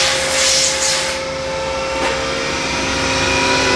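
A Takisawa EX 108 CNC lathe runs a machining program, a steady loud mechanical whir with high-pitched whining tones, a brief hiss near the start and a soft knock midway.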